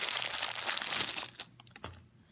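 A cellophane bag holding a foam inlay from an IPV D2 75W device box is crinkled close up, giving a dense, bright rustle that fades into a few sharp separate crackles before it goes quiet.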